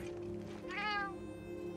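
A cat meows in the video game Monster Hunter Wilds, one clear drawn-out meow rising and falling near the middle, heard over a steady game soundscape with a low background hum.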